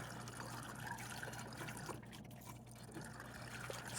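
A 1948 Halsey Taylor drinking fountain runs its dual water jet, making a soft, steady trickle and splash at close range with a faint hum underneath.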